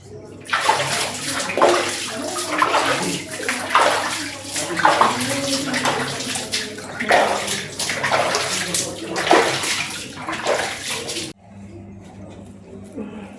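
Water splashes and sloshes in a holy temple pond at a Shiva temple in the Aravalli hills: rhythmic, repeated surges of splashing, close and loud, with faint voices mixed in before the sound stops abruptly.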